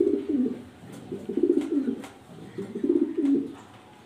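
A male Maltese pigeon coos close up in three rhythmic, rolling bursts with short pauses between, clear and moderately loud against a quiet background.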